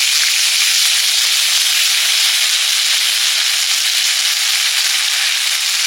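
Whole spices tempering in hot oil for a Bengali hinche greens dish, giving a loud, steady, close sizzle and hiss that continues without pause and with no talk over it.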